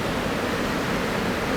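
A waterfall in a landscape setting, heard as a constant, dense rushing hiss that stays even in loudness throughout, with no voices.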